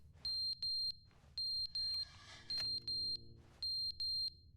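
A shrill electronic alarm from The Stanley Parable Ultra Deluxe sounds in repeated double beeps at a steady rhythm, each pair sharp and piercing over a low background rumble.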